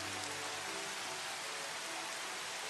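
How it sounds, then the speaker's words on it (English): Rain in the game Final Fantasy XV makes a dense, even hiss of falling drops, steady and moderately loud with no pauses or voices. "I mean, the sound of the rain is amazing."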